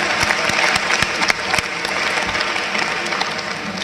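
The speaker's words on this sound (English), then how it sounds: "Let's give them a round of applause, please." An audience at a homecoming convocation at Albany State University claps in a steady round of applause that fills the hall throughout, loud and sustained.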